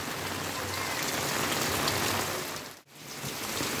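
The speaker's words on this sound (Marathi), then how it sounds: "पाऊस बघा पाऊस काय थांबायचं नाव घेत नाही" Heavy rain pours down in Kankavli, Konkan, in a dense, steady roar with no voices. The hiss cuts out briefly near the end, then resumes.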